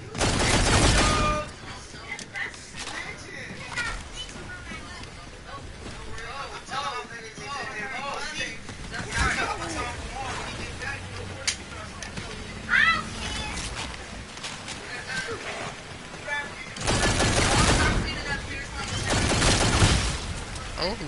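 Bursts of rapid gunfire from a weapon in Call of Duty: Infinite Warfare zombies mode, loud opening and closing volleys with scattered shots and game effects between them, while a player talks over the action.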